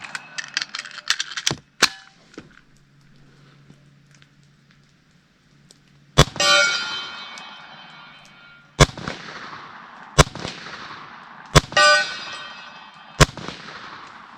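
A B&W S45 semi-auto big bore PCP air rifle fires several sharp, loud shots at outdoor targets. Some shots come in quick pairs and others are spaced apart, and each is followed by a ringing metallic impact and a decaying echo.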